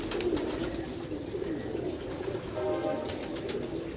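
Pigeons coo close by in a soft, repeated murmur that runs through the whole stretch, with a faint chirp or two over a low background hum and no talk.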